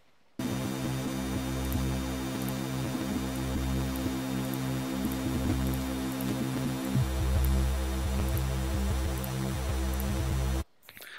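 A steady low sine-wave sub bass from the Serum synth, passed through a high-pass filter, drones continuously with a faint hum, holding for about ten seconds before cutting off abruptly.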